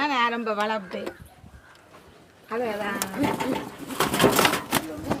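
Pigeons coo in soft, repeated low calls, close by, with a pause midway before cooing resumes alongside people talking and rustling movement.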